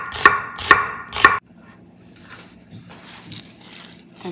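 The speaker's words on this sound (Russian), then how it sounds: "Шинкую также лук. Тонко" A knife thinly slices onion on a cutting board: three sharp, evenly spaced chops sound up close, then the cutting turns to softer, faint scraping and rustling.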